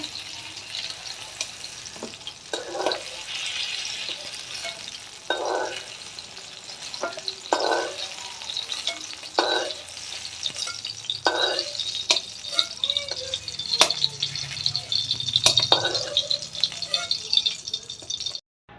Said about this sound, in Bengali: তো বন্ধুরা বেগুনটা আমার ভাজি করা হয়ে গেছে তো আমি এখন বেগুনটা নামিয়ে নেব